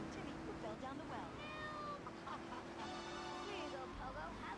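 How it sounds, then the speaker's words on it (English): A cat meows several times in a radio advert inside the GTA3 video game, mixed with a talking voice and background effects at low volume. "Rescue a cat out of that tree with your banana cannon, Pogo."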